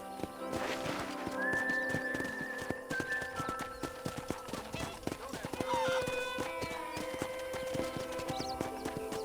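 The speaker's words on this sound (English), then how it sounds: "I picked out a fine horse for you." A horse in a video game neighs and whinnies while steady clip-clopping hooves keep a walking rhythm throughout, close and clear, with a voice talking over parts of it.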